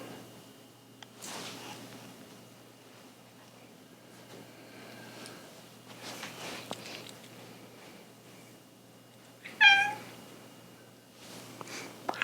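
House cat meowing during a quiet yoga session, one short clear meow near the end over faint room noise and soft shuffling.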